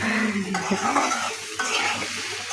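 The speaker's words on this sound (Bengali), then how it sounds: "তো এই যে আলুগুলো লাল লাল করে ভাজে নিচ্ছে" Potatoes frying in a pan, browning while being stirred, give a steady close sizzle with scraping utensil strokes against the metal throughout, no voices.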